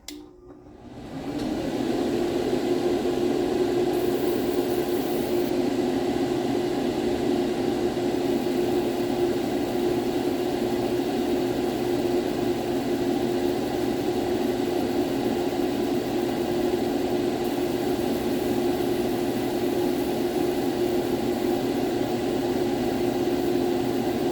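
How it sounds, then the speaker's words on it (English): A laser engraver's exhaust fan starts up and then runs with a steady, unbroken whir and hum, close by and constant throughout. "Let's turn on the exhaust fan here so we're not breathing in all that ablated paint."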